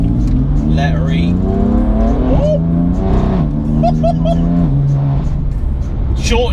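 BMW M4 F82 engine accelerating hard in second gear in 1M mode, a loud continuous rising exhaust roar with short-shifted gear changes near 4,000 RPM that break the pitch into several climbing steps.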